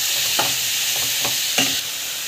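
Green chili, onion, carrot, coriander, asafoetida, salt and ginger-garlic paste sautéing in a pan, a steady close sizzle with several soft scraping stirs of a spoon.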